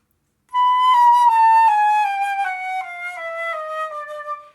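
A solo flute runs a chromatic scale one semitone at a time, descending and then climbing back, each note clean and sustained with breathy edges, close and alone.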